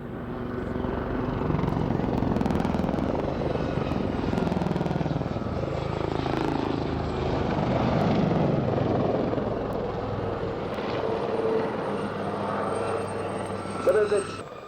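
A Westland Lynx helicopter climbs and dives at the RAF Waddington airshow, its steady rotor and engine roar filling the air at a distance, with commentary talking over it throughout.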